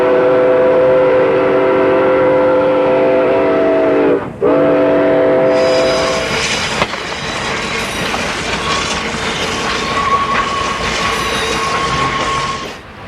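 Yreka Western steam locomotive number 19 making up its train in Yreka in 1961, a loud sustained steam whistle chord followed by close rail rumble, wheel squeal and clanking of cars.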